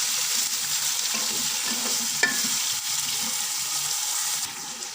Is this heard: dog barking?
no